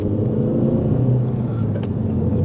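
An Audi TT engine drones low and loud in second gear, a close steady rumble that holds through the short stretch, with a faint brief chirp near the end.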